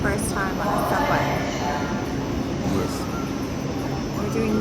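A Milan metro subway train rumbles steadily throughout, a dense continuous ride noise with brief squeals, while people talk over it.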